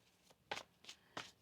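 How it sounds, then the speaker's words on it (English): Tarot cards being shuffled by hand, four crisp riffling bursts in an uneven rhythm, close and fairly quiet with near silence between them and no talking. "One more shuffle."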